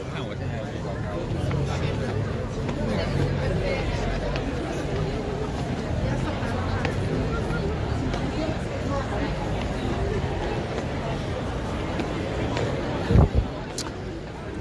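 A dense Christmas crowd fills a street in Rome with a steady, distant babble of many voices and footsteps, a brief louder clatter near the end, and someone speaking closer over it.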